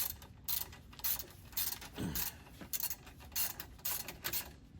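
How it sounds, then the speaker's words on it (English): Repeated mechanical clicking from a hand ratchet working a brake bolt during a racing brake change on a Dodge Challenger, with bursts of rapid ratcheting separated by short pauses, close and fairly clear, no talking. "Because you're ratcheting, and when you were doing that, applying the pressure when it got loose, this bolt moved back some."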